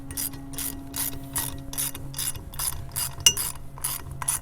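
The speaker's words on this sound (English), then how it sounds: "now you can get out your wrench or your socket and ratchet" A socket ratchet clicks in quick repeated bursts while tightening bolts on a hardtop handle mount, close and crisp, with a clear rhythmic pawl clatter and no talking.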